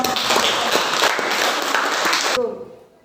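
A classroom audience applauds presenting classmates with dense, close clapping for about two and a half seconds before it cuts off abruptly into quiet.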